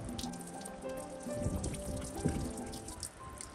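Water runs from a jug with its vent opened, flowing slightly faster in a light, close trickle with soft splashing and dripping.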